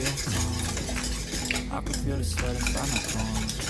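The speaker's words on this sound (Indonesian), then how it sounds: "Jadi dituang sambil diaduk-aduk." A utensil clinks and scrapes steadily against a bowl while creme brulee custard mixture is poured and stirred, a busy continuous clatter close by with no talking.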